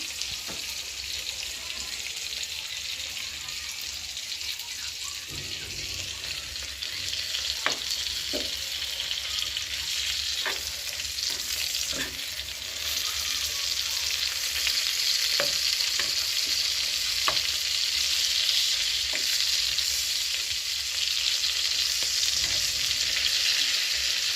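Large freshwater prawns fry in a pan with a steady, close sizzle that holds throughout, broken by occasional clinks and stirring scrapes, with no talk over it.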